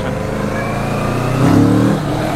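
A Kawasaki Z650 motorcycle engine revs up briefly, the pitch rising as it accelerates over a steady engine hum.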